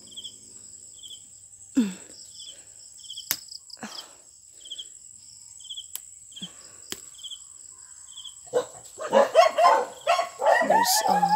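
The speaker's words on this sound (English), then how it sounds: "dog" Dogs barking and fighting at night, with a few scattered barks early on and then a louder, busier scuffle of barks and yelps near the end, over steady cricket chirping and occasional voices.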